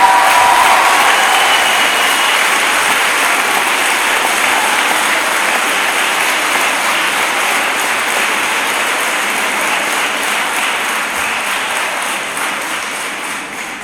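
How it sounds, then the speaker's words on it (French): A large audience at a high school graduation ceremony applauds in a long, steady roar of clapping that fades slightly toward the end, with no speech over it. "Bonne main d'applaudissements."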